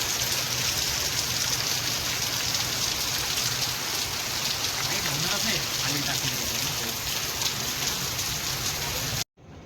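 Steady heavy rain falling in Goa, a dense continuous hiss of drops on surfaces at close range, unbroken for the whole stretch and cutting off abruptly at the very end.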